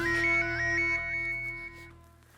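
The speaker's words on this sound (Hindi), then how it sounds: "मेरे पास इंस्पेक्टर चालू पांडे का नंबर है, मैं डायरेक्ट उनको ही फोन लगाता हूँ।" A phone ringtone plays a repeating melodic chime several times, clear and fairly quiet, then fades out near the end.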